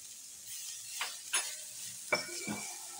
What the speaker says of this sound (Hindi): गाजरों के साथ ही हम शिमला मिर्च भी डालकर भून लेंगे